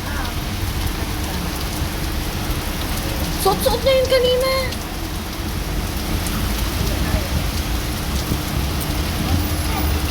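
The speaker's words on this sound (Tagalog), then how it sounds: "Ate, ano, malakas ulan." Heavy rain pours in a steady, dense hiss that fills the whole stretch without letup, while a voice speaks briefly partway through.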